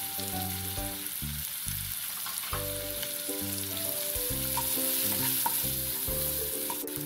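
Onion, garlic and a little turmeric fry steadily in a pan for green gram curry, a continuous close sizzle with occasional stirring scrapes and a faint background hum, no talking.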